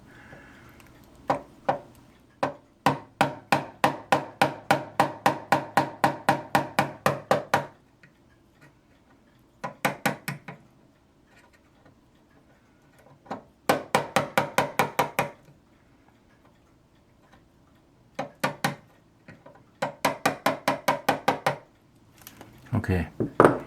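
Repeated tapping on a model ship part with a makeshift hammer, heard as several bursts of rapid, evenly spaced sharp taps separated by pauses, close and fairly loud.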